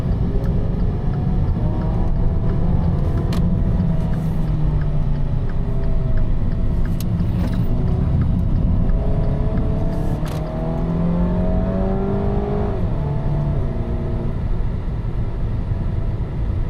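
Dodge Dart car driving and accelerating, heard from inside as a steady loud engine drone with rising and falling pitch sweeps as it gains speed, continuous throughout.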